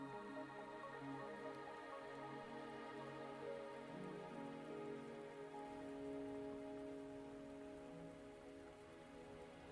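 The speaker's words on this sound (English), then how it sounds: "Are you trapped here by the rain?" Rain in the video game Wuthering Waves falls as a soft, steady patter beneath quiet game music, faint and continuous with no talk.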